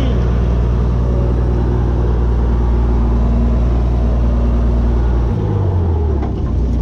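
A Farmall 826 tractor engine runs at a steady, loud, close rumble throughout, its low drone dipping and shifting near the end.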